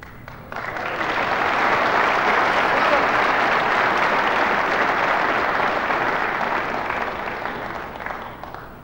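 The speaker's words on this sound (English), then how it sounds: "Deserved applause for a very difficult stroke there." Snooker audience at the 1980 Welsh Professional Snooker Championship final applauds a very difficult pot, a dense, steady clapping that swells in after a brief quiet start and holds for several seconds before easing slightly.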